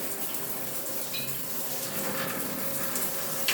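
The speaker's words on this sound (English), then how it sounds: "Just give it a quick flush." Household toilet flushing in a home bathroom, a steady broadband rush of water running continuously for several seconds at moderate level, with no talking.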